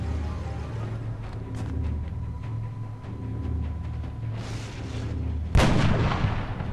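Gunfire from a soldier's shot in the video game XCOM Enemy Unknown, a sharp, loud single blast cutting in over a steady low game drone, followed by a decaying rumble.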